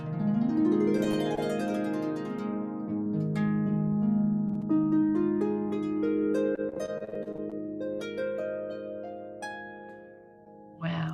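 Plucked harp strings ring out a Far Eastern pentatonic melody, notes sustaining and overlapping in a warm, resonant wash, with a rising run early on and a quieter, sparser close.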